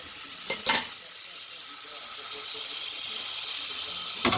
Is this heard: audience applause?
no